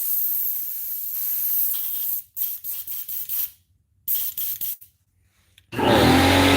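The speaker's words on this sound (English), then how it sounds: "Air compressor." A broadband hiss sprays in bursts from an air compressor hose, steady for a couple of seconds and then cut into short blasts with silent gaps, ending in a louder, rougher rush of noise.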